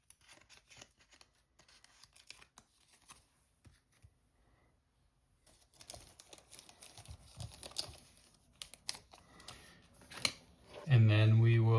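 Trading cards are packaged into plastic card savers with intermittent soft rustles, crinkles and sliding plastic handling sounds, sparse at first and busier later, ending in a louder burst; a voice speaks over parts of it.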